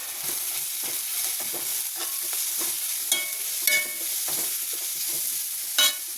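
Cabbage and green chilli stir-frying in hot oil, a steady close sizzle broken by repeated scraping and tossing strokes of a spatula, with a few sharper crackles and clicks.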